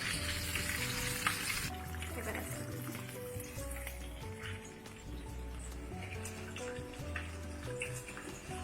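Chicken thigh pieces deep frying in hot oil for KFC-style fried chicken, a steady crackling sizzle throughout with faint background music-like tones and occasional stirring knocks.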